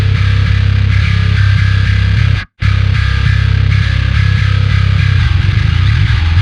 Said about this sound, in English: So when we play live, there is a bass guitar that sounds like this.